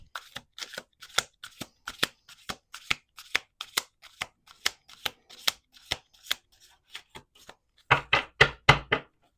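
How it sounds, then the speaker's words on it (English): Tarot cards are shuffled by hand in a run of crisp, rhythmic riffles and taps, evenly spaced and close, ending in a louder, faster cluster of shuffles. "2 more shuffles."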